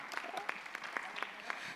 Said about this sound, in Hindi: तालियां बजा सकते हैं अगेन.